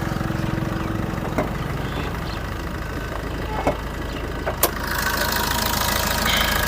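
Close recording of a 2014 Maruti Ertiga VDi diesel engine at idle, a steady rumbling clatter with a faint knocking rhythm and a few sharp clicks and knocks over the top.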